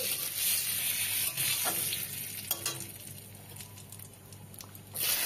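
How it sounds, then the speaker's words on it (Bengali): Cumin seeds, bay leaves and dried chilies sizzle in hot mustard oil in a kadai, a continuous crackling fry close by with a few stirring knocks. "এখানে জিরে ফোড়ন দিলাম,"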